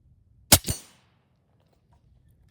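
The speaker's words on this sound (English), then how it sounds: "Those are my last 3 shots of that mag, and I hit every single one of them." An Air Venturi Avenger air rifle firing at a 50-yard target gives a single sharp crack followed by a quick second report, then near silence with a couple of faint ticks.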